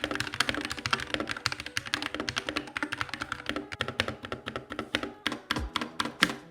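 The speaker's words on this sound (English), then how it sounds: "here is a quick sound test of this gaming keyboard" Rapid, continuous typing on a gaming keyboard with magnetic switches, crisp clicky keystrokes in quick succession, close up with no voices.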